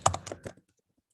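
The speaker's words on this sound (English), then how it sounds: "I'm just typing some sample email address" Quick keystrokes on a computer keyboard, about four or five soft close-up clicks in under half a second, then silence, with no talking.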